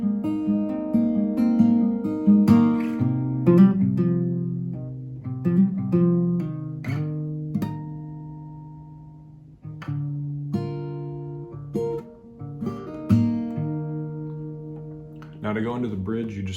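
A short acoustic guitar riff played up close: plucked notes, pull-offs and a quick strum, ringing with brief pauses between phrases.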